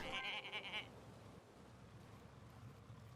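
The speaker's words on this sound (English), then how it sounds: "Ooh, a sheep." A sheep in the video game Summer in Mara gives one short bleat at the start, fairly close, before fading into soft ambient game background.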